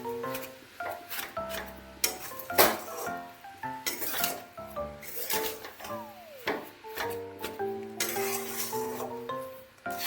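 Grated coconut and jaggery being stirred in a metal pan, with irregular scraping and clinking of the spoon against the pan close by, carrying on throughout with no talk.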